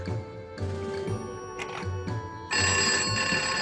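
A telephone rings indoors in a repeating electronic bell pattern, fairly close and steady, growing brighter and louder partway through, with no talk.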